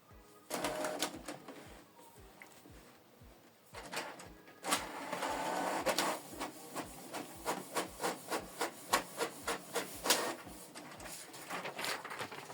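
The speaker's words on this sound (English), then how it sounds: "Print test page." A Canon Pixma TS8750 inkjet printer runs through a test page: rhythmic mechanical clacks and whirring carriage passes, pausing briefly, then a fast regular series of ticks.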